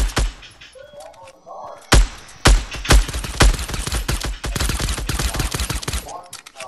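Gunfire in the video game Fortnite comes as several sharp single shots, then rapid bursts of close, loud firing that continue to the end.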